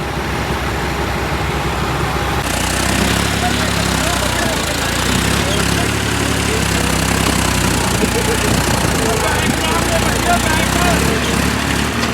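A tractor engine runs steadily with a loud, continuous drone while working with a single-row machine in a field, close and unbroken throughout.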